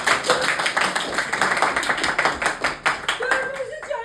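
A small group of people claps in quick, fairly even rhythm for about four seconds, close and lively, with a voice speaking over the end.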